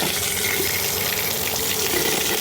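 Water rushes at full flow through a valve on an irrigation hose, a loud, steady close-up gushing hiss that holds constant throughout without speech.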